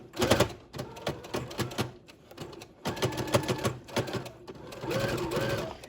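A sewing machine stitches straight across a handmade fabric face mask in short bursts of close, rapid chattering broken by brief stops.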